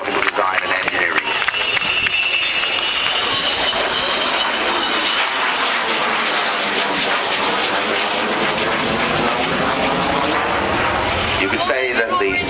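The Avro Vulcan XH558, a British delta-wing jet bomber, roars loudly and steadily through a flying display at an airshow at Dunsfold. The engine noise stays constant and overpowering, with a faint shift in tone as the aircraft passes, and a commentator talks over it.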